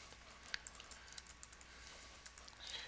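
Soft, quick keystrokes on a computer keyboard, tapping in a loose irregular rhythm with a few sharper clicks, fairly quiet in a still room.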